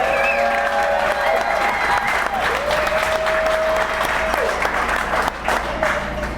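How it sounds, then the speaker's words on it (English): Loud, sustained crowd applause fills a room at the Copper Kettle Brewing Company's 15th anniversary party, dense clapping with a few scattered cheers and voices mixed in throughout. "give them a round of applause because they've kind of saved the day."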